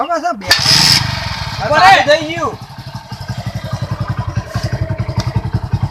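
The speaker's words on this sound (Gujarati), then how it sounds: "તું ચાલુ કરજે બાઈક ચાલુ કરજે" A motorcycle engine is kicked over and catches, settling into a close, loud, rhythmic idle chug after a few seconds, with people talking and shouting over the start.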